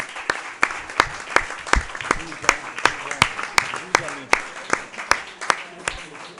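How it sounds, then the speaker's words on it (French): Audience at a municipal council meeting claps in a steady rhythmic applause, each sharp clap distinct and evenly spaced, moderately close, with a faint voice underneath. "je pense qu'on peut applaudir quand même"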